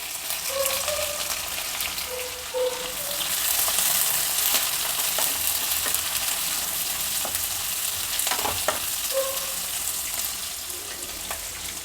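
Sliced onions fry in oil with bay leaves and cumin, giving a steady, close sizzle and crackle that runs throughout, with occasional stirring scrapes and no voices.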